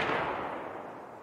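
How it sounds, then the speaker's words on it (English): A single loud gunshot from the player's own weapon in the video game Escape from Tarkov, a sharp burst that fades into a short echoing tail. "That's me shooting."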